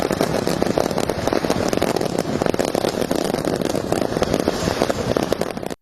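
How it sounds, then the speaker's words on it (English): Dense crackling fireworks from a crashed trailer's cargo explode nonstop on a dark highway, a loud, continuous barrage of sharp pops and bangs that cuts off abruptly at the end. "a truck rear-ended a trailer and the contents went kaboom"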